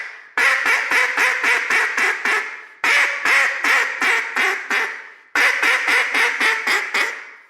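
A tuned duck call is blown in three loud, close sequences of rapid quacks, each run of eight or so descending honks fading slightly before a short pause.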